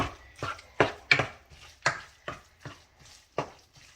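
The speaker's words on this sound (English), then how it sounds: "now it's just got to cook the meat, and you just got to keep up with it so you don't get a bunch of chunks" Ground meat for Puerto Rican pastelillos is broken up in a pan, with a spatula striking the pan in a series of sharp, close knocks roughly every half second, loud and clear with no voices.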